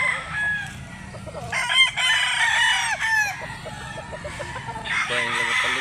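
Roosters crow repeatedly at a rural spot in Mantalungon, Barili, Cebu, with several overlapping calls, some close and loud, others further off, over a continuous outdoor background.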